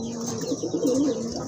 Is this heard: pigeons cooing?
yes